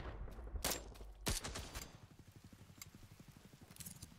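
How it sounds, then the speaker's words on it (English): Gunfire in a helicopter combat video game: two sharp loud shots open, followed by a rapid rhythmic burst of automatic fire that continues steadily at moderate level, with no speech. "Suppressing fire!"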